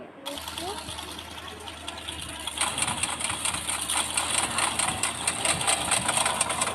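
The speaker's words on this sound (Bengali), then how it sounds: "আমি একটা গাড়ি নিয়ে নিই মোটর সাইকেল" A motorcycle engine in a video game drones steadily with a buzzing, rattling tone that grows louder about halfway through, while voices talk over it.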